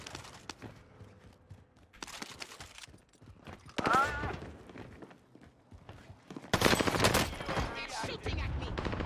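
Scattered gunfire in Call of Duty Warzone on Rebirth Island, with short bursts and single shots at varying distances, a loud close volley near the end, and a player's voice talking over it.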